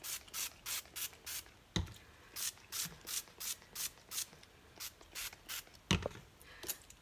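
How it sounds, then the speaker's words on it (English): A pump bottle of Redken All-in-One mists onto a human hair wig in quick, close bursts of roughly even rhythm, with a couple of soft thuds between sprays. "I'm just going to spray it mid-shaft and down"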